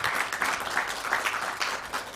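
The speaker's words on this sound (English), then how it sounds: "A very warm round of applause," Audience at a high-level tourism roadshow event in Johannesburg gives a warm round of applause, steady dense clapping throughout with no voices over it.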